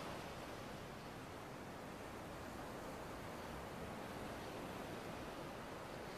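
Ocean waves wash onto a beach in the video game Kingdom Hearts Missing-Link, a continuous, even rush of surf noise heard alone and at low volume.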